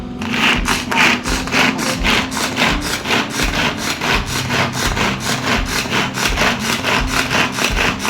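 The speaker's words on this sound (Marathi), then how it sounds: "मी कांदा बारीक करून घेत आहे" A hand-pulled chopper whirs in fast rhythmic strokes as it minces onion, each pull giving a scraping rasp, repeated steadily and close up.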